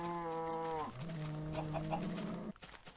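Minecraft chickens cluck up close, a drawn-out tonal cluck followed by a few shorter, scratchier clucks, with no talking.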